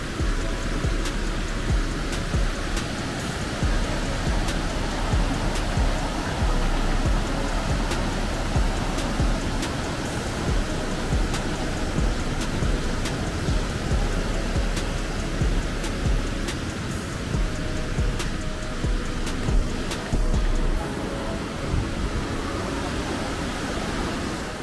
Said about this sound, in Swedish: Och det dånar rejält när det grönfärgade glaciärvattnet rusar förbi.